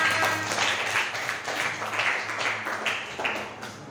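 Applause from a classroom audience after group presentations in a civics teacher-training session, a steady patter of many hands at moderate volume, continuing for a few seconds without voices.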